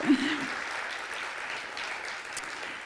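An audience claps steadily at a gathering honouring women of Williams, a sustained wash of applause from a crowd, even in loudness throughout with no talk over it.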